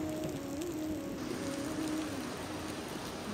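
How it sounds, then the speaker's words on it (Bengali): Rain falls in Malaysia, a steady dense wash of drops heard near and continuous for a few seconds with no voices over it. "সব দিকে বৃষ্টি আর বৃষ্টি।"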